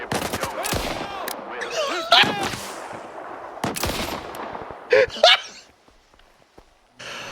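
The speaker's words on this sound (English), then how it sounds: "You boys like my sniper rifle?" Sniper rifle fire in the video game S.T.A.L.K.E.R. 2: Heart of Chornobyl, with several loud, sharp cracks spaced seconds apart, each trailing into a ringing tail, amid rustling movement and other game noise.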